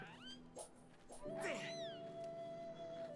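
A cat in The Legend of Zelda: Skyward Sword gives short chirps and then a drawn-out, wavering yowl with a sustained tone, fairly quiet overall.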